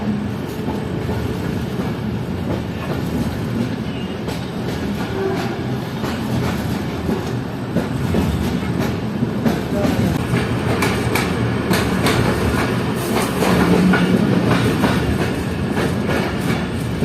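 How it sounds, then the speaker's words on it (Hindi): Train rolling on rails as it pulls into Larkana Junction station on the ML-2 line in Pakistan, a loud continuous rumble with rhythmic clickety-clack of wheels and faint squeals, heard from on board without speech. "हमारी ट्रेन पहुंच रही है लाड़काना जंक्शन रेलवे स्टेशन पर"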